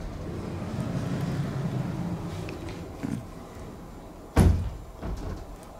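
A hotel room door at a Sun Moon Lake resort in Taiwan is handled over a steady room hum, with a light knock, then a sharp loud thud and a softer bump as it swings back open.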